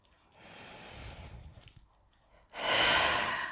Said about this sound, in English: And then take a deep breath.